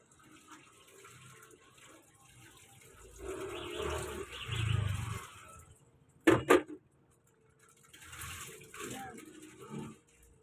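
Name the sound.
rinsing laundry in water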